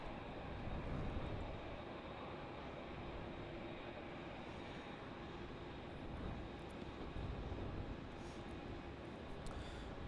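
A Qantas A330 arriving from Perth comes in on final approach to Melbourne Airport, a continuous broad engine rumble holding steady from start to end at a moderate distance, with no one talking.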